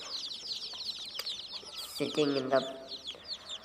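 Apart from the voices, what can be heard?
chicks clucking on a farm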